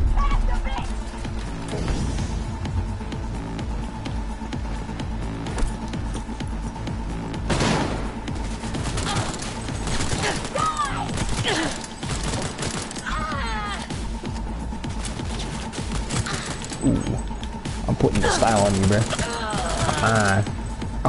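Repeated bursts of gunfire from the Cyberpunk video game crackle through a busy mix of game effects, with sharp volleys scattered across the stretch and a voice talking over them.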